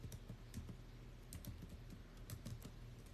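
Typing on a computer keyboard, a quick run of soft key clicks in an irregular rhythm, faint and close, without talk.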